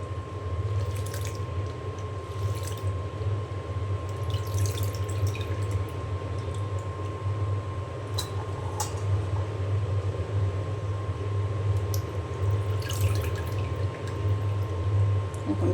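Cut potatoes being washed in water make soft splashes, drips and squishes over a low steady hum in a kitchen, with faint voice-like sounds now and then.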